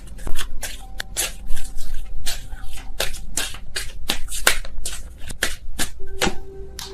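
Tarot cards shuffled by hand in a rapid run of crisp riffles and slaps, close and fairly loud, with bursts of flicking snaps spread evenly through the stretch and no talk.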